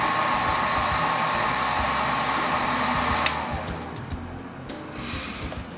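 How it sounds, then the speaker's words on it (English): A paint stripping heat gun blows a steady, loud, close whoosh during laptop repair work, then drops to a softer airflow hiss partway through, with no one talking. "I've really gotten used to these paint stripping heat guns."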